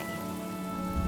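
Steady rain falling in a Honkai: Star Rail cutscene, a dense even patter that holds constant and close for about a second.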